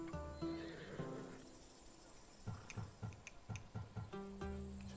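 A horse in the video game Assassin's Creed Odyssey gives a loud whinny at the start. A quick run of clip-clop hoofbeats follows, ending with a short snort.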